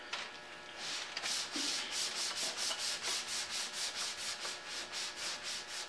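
Primer being block sanded on the hood of a Chevy Cruze near its rolled front edge: a steady, close, abrasive rasp in quick back-and-forth strokes with an even rhythm throughout.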